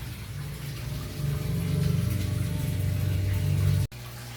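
Water drains from a tank of two-month-old Australian red claw crayfish with a steady rushing gurgle over a low, humming drone. The sound swells slightly, then cuts off abruptly near the end before a quieter hum resumes.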